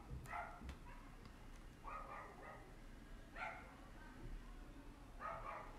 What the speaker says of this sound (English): I think there's a dog next door that wants to come in.